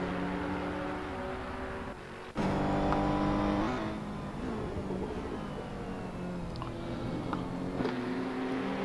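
Race cars lapping Road America in a sim racing game, with a steady engine drone and gear changes. A revving surge builds as cars pass close by, and the engines sit loud and continuous throughout.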